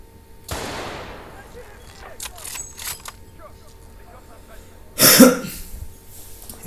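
Gunfire in the video game Battlefield: Bad Company, in an area with snipers: a sharp shot rings out early with a long decaying tail, then a louder, nearer blast lands a few seconds later amid scattered quieter clatter.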